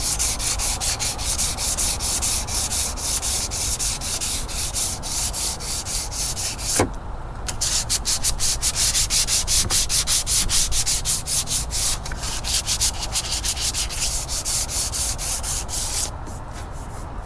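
A bass boat surface is sanded smooth in rapid back-and-forth strokes, a loud, scratchy rasping that repeats in quick, steady rhythm, broken by a sharp knock and a couple of brief pauses.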